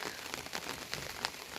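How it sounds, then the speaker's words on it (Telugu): Rain falling steadily on a tribal village, a dense, even patter of drops with a few sharper splashes, close by and continuous, with no voices. "వర్షాలు పడుతున్నాయి కదా"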